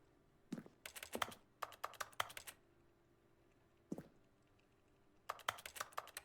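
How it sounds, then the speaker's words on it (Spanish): Computer keyboard keys clatter faintly in quick bursts of several presses, pausing between groups, with a single isolated keystroke in the middle. "la E también hace ruido de teclado"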